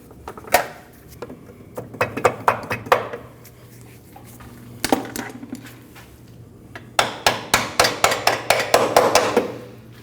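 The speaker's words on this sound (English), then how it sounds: "Give it a tap with your rubber mallet and install your front bolt" Rubber mallet tapping a front lower control arm into place on a 2003-2008 Subaru Forester, sharp knocks in quick clusters of several taps separated by short pauses, close and fairly loud.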